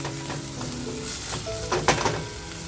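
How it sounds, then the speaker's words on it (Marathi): Grated tomato sizzles and fries with masala in a pan, a steady low hiss with scattered scraping and clinks of a spoon stirring it, and no talking. "आणि आता बघा टॅमॅटो मी किसून घेतला होता तो टॅमॅटो टाकून घेऊया, म्हणजे मसाला सुद्धा आपला बघा खमंग परतला जाईल."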